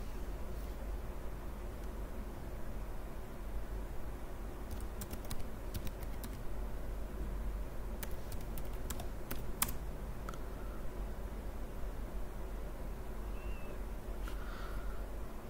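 A computer keyboard is typed on while a root password is entered on a GNU/Linux system: a few scattered clicks, then a quick cluster of keystrokes, then a couple more, all over a quiet low hum.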